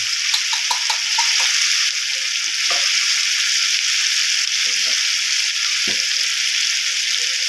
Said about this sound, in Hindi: उसके बाद इसमें गरम मसाला डालेंगे, इसको थोड़ा सा आगे हिला लें।